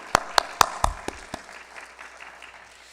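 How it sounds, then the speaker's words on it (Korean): A congregation at a New Year's Eve church worship service gives a brief burst of applause: about six loud, sharp claps in quick succession, then a faint tail of scattered clapping as it dies away. "우리 감사와 찬양과 영광의 박수로 영광 돌릴까요?"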